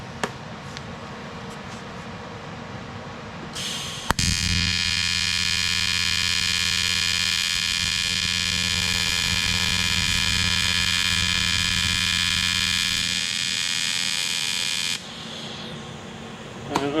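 TIG welder arc on a 4L80E transmission repair, a sharp, steady electrical buzz that starts abruptly, holds for about eleven seconds and cuts off, with quieter shop hum before and after.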